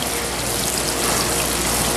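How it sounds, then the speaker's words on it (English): White sea bass fillets searing in olive oil in a hot sauté pan give a steady, dense sizzle and hiss that runs unbroken throughout, close and fairly loud, with no voices. "Again, the idea is just to sear the fish."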